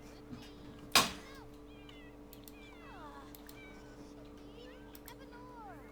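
A cat meows several times in a video game, a sharp thump near the start, the mewing calls light and mid-distance over a steady background hum while a person talks.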